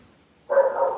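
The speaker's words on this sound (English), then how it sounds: "That was my dog Kenzie." A pet dog barks indoors during a home makeup session, a single sustained bark-like yelp starting halfway through and continuing loudly to the end after near silence.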